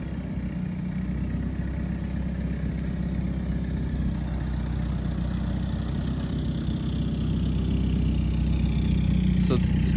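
A straight-piped 2015 Subaru WRX idles with a steady low exhaust rumble, while a person talks over it throughout.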